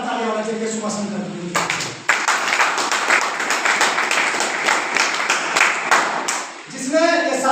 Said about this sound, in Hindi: हमारे मेंटर के लिए बात जोरदार ताली होना चाहिए